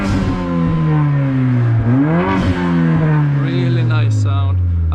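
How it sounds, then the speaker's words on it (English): Mercedes-AMG A45 tuned by RENNtech, warm and in sport mode, revving loudly up and down with a rising and falling engine note and hissing dump valve bursts, close and dominant throughout. "you can hear a lot of dump valve noise"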